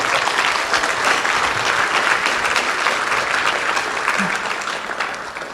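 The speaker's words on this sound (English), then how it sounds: "This is the last session, so why don't we give them a big round of applause" A conference audience at a national patient conference gives a big round of applause, with steady dense clapping that holds throughout and tapers slightly at the end.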